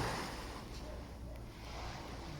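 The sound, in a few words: ocean waves crashing on El Nido beach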